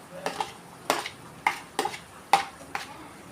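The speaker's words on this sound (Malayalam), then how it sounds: "അതിട്ടിട്ട് ഒരിളക്കൊന്ന് ഇളക്കിയിട്ട്, ഇങ്ങനെ ഇളക്കിയിട്ട്" Chopped taro and small sardines stirred in a pot for a traditional meen peera, giving about six sharp scraping clacks of a spoon against the pot in an uneven rhythm, close and moderately loud.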